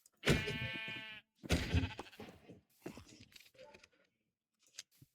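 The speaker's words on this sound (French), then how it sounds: "Le mouton." Sheep in the Minecraft video game bleat in two loud wavering calls, followed by softer game sounds and a few faint clicks.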